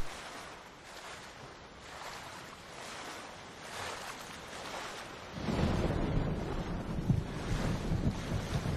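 Ocean waves wash in Ghost of Tsushima, a soft, steady surf hiss with gentle rhythmic swells that grows fuller and louder midway through, with no voices.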